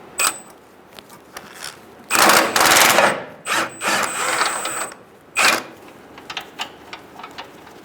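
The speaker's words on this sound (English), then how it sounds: "I'm going to use a 17mm socket and a 17mm wrench and take out this control arm bolt." Socket wrench ratcheting a control arm bolt loose on a 2014-2018 Subaru Forester, several close bursts of metallic clicking and clunking separated by pauses, with lighter ticks trailing off near the end.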